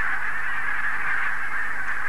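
A continuous chorus of honking wild geese in flight, fairly loud and unbroken, as if a flock is passing close by.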